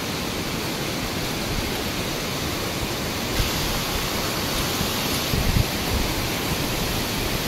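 The Chel river rushing past on a ride toward Gorubathan: a steady, loud, broad roar of flowing water that fills the scene without a break, with no voices.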